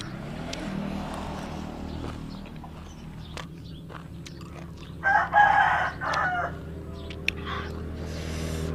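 Chickens cluck around a farmyard and a rooster crows once loudly midway, over a steady low background rumble with scattered footsteps and knocks.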